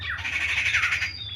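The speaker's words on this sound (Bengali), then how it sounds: "গাছে সব চারিদিকে পাখির ডাক।" Birds call from the trees on a morning rooftop, a single harsh squawking call held for about a second, moderately near against a low background hum.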